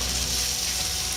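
Julienned ginger and garlic slices sizzle steadily in hot oil while being stir fried for a chicken curry, a close, continuous crackling hiss with no pauses.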